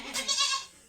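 A goat gives a single short, close bleat lasting under a second, loud and clear with no talking around it.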